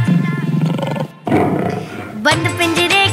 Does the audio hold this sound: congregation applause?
no